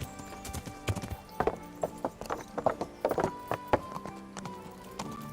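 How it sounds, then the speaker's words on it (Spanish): Horse hooves in Kingdom Come: Deliverance, a medieval video game, clop in a steady rhythm of sharp taps with a short whinny, set against a bed of game music. "Mira, aquí está el caballo."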